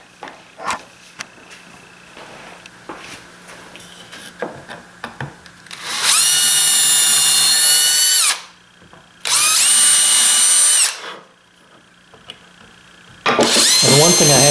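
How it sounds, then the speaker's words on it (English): Power drill boring pilot holes into a wood block, three loud close high-pitched whining bursts of a couple of seconds each separated by quiet pauses with faint handling clicks. "I'm going to pilot hole these, then we can mount that block"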